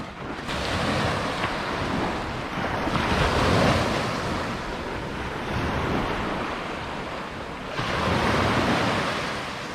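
Ocean waves break and wash up on the beach at Sanibel on a rainy day, with several surges rolling in under steady wind noise buffeting the microphone.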